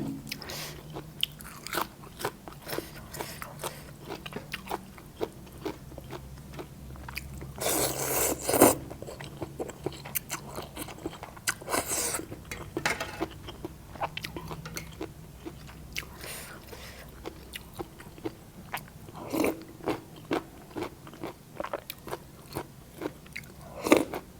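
Giant octopus tentacles, served with rice noodles in fermented fish sauce, are chewed up close with repeated crisp, crunchy bites and wet mastication sounds, irregular and continuous over a long stretch, with no talking.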